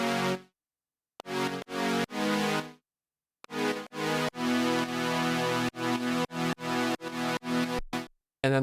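Sylenth software synthesizer on an init patch playing a mid-range part, heard alone as a run of bright harmonic notes and chords in choppy, rhythmic bursts separated by short silences.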